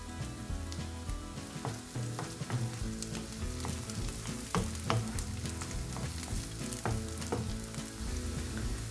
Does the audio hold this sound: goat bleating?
no